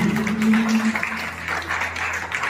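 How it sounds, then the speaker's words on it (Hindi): A crowd at a Parshuram Jayanti celebration claps for Shardul Vikram Tripathi, a dense wash of applause mixed with a low hum and murmur, staying fairly loud for the whole stretch. "एक बार जोरदार ताली शार्दुल विक्रम त्रिपाठी के लिए"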